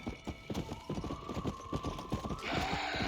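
A horse galloping in the video game Red Dead Redemption: Undead Nightmare, with rapid rhythmic hoofbeats under a sustained musical tone.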